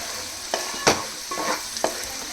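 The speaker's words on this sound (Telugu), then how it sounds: "మొత్తం ఒకసారి కలుపుకుందాం." Potato fry being stirred with chili powder in a hot pan, a few scraping strokes of a spoon over a steady, soft sizzle, close and alone without talk.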